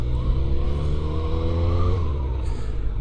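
A motorcycle engine, ridden for fuel economy, runs with a steady close drone whose pitch climbs slowly before easing off.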